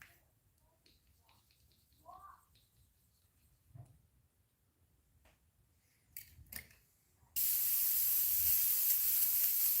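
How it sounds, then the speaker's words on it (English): Clogged airbrush spraying paint onto a jointed musky crankbait, quiet faint clicks and rustles for several seconds, then a sudden loud steady hiss of spraying air that runs to the end. "Just clogged the airbrush up"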